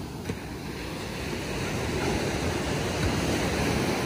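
Ocean surf rolls onto a broad southern beach, a steady, loud wash of breaking waves mixed with wind noise on the microphone, with no voices.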